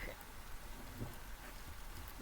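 Steady game rain in Luanti's VoxelLibre, a faint, dense hiss of falling drops with a low rumble of thunder underneath, continuous and without talk.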